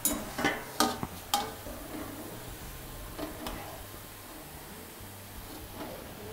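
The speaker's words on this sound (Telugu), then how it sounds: "ఇలా బ్రెడ్ స్లైసెస్ తీసుకుని ఇందులో వేయించుకుని కాస్త బ్రౌన్ కలర్ వచ్చేంత వరకు ఈ బ్రెడ్ స్లైసెస్ని వేయించుకోవాలి" Bread slices frying in ghee in a pan for double ka meetha, a soft steady sizzle under a few sharp clicks and taps of a utensil against the pan near the start.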